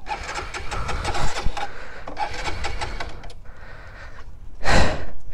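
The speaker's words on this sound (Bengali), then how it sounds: "বাইক স্টার্ট দিচ্ছে না, বাইক ঠান্ডা হয়ে গেছে।" A cold motorbike that refuses to start is cranked repeatedly in rough, grinding bursts, loud and close, with brief pauses between attempts.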